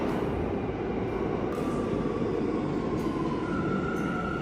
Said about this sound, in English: then we headed back to Manhattan on the subway.